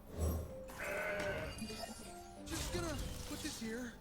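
A mountain goat card in the Legends of Runeterra video game bleats with a couple of wavering goat-like calls, set amid game effects and background music at moderate loudness.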